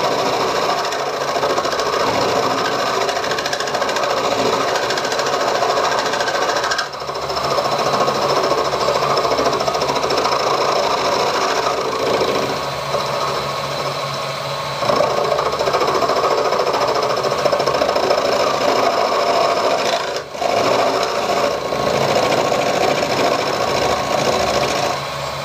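A milling machine, fed by hand in an unusual setup, cuts steadily with a dense, buzzing chatter that runs on for the whole stretch, close by, with a few brief shifts in tone as the cut changes.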